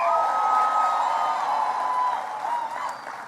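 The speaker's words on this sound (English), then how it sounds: "Give him a big round of applause." Audience applause and cheering at a National Action Network event with President Barack Obama, a steady dense wash of clapping and crowd noise that stays loud, then tapers slightly toward the end.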